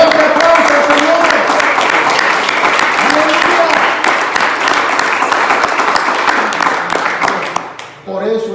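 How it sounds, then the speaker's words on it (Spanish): Church congregation applauding for the Lord during a sermon, a dense sustained wash of clapping with voices and cheers mixed in, steady and loud before tapering at the end. "Denle otro aplauso, Señor."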